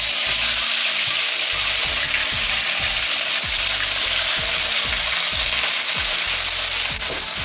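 Two chopped onions sizzle loudly in a karahi pan for a lamb karahi curry, a dense close hiss of frying, with regular scraping strokes as they are stirred around, no talking.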